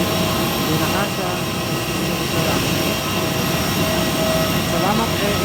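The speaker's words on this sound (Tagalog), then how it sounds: "Ayan ang aeroplano natin." Steady broadband roar of an AirAsia airplane's jet engines, heard close and loud as a continuous wash with no breaks; faint voices mix in underneath.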